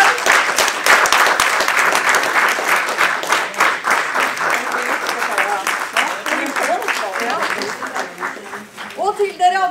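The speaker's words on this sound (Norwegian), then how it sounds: "Så stor applaus!" A large audience at a report launch event applauds loudly and steadily, the clapping gradually thinning toward the end as a voice begins speaking over it.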